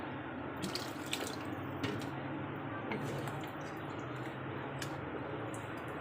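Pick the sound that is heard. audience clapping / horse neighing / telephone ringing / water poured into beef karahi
water poured into beef karahi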